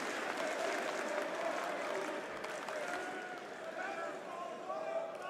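A large esports arena crowd at a Counter-Strike major in Munich cheers and applauds steadily for SSG, a dense roar that holds at an even level throughout, with a commentator's voice running underneath.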